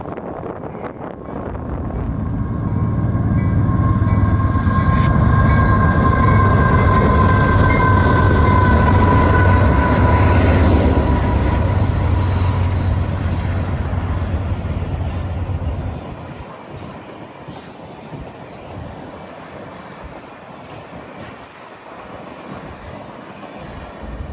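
A Union Pacific freight train rumbles past loudly for about fifteen seconds in the Mojave desert, wheels squealing with tonal screeches, then fades to quieter rolling noise as it moves away.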